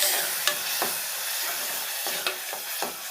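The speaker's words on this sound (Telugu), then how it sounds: "సిమ్లో పెట్టుకొని చక్కగా ఈ ఉల్లిపాయని ఒక 5 నిమిషాలు మగ్గించుకుందాం" Onion paste ground with coriander seeds and cumin, frying in a pan on low heat: a steady close sizzle punctuated by several sharp clicks and scrapes of a stirring spoon, with no voices.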